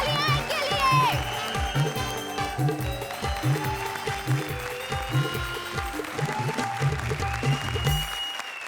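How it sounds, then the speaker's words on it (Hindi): Audience applause on a televised comedy stage show, a steady clapping wash under loud rhythmic background music with a repeating beat, continuing throughout before cutting off near the end. "जोरदार तालियां इनके लिए।"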